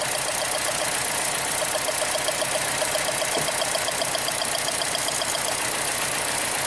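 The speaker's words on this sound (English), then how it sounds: "the engine you see runs exactly the same" A Chevrolet Cruze engine idles roughly and unevenly on two cylinders, with no spark on cylinders 1 and 2, giving a steady knocking pulse and no voices.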